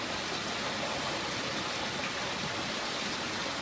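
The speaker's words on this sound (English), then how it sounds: "You can hear the water flowing underneath all the boulders." Water rushing underneath boulders on Biseul Mountain in winter, a constant broadband hiss and rumble with no breaks, close and steady, with no talk.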